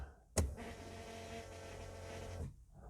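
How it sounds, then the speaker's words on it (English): A click, then the fuel pump of a Fiat Cinquecento Turbo whirs with a steady electric hum for about two seconds before cutting off, heard close but faintly. "that fuel pump's noisy"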